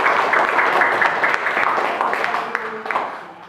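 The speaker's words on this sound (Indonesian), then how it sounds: "kita beri tepuk tangan kepada saudara Adrian" Classroom applause for a student named Adrian after his presentation, dense clapping from many pupils that fades toward the end, with some voices mixed in.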